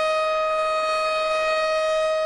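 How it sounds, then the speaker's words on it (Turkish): Civil defense sirens sound across Istanbul at 9:05 for the November 10 commemoration: one loud, steady, sustained wail that holds an even pitch throughout, with no voices. "Ancak sirenler çalmaya başladığında yaşanan bu birliktelik her yıl olduğu gibi"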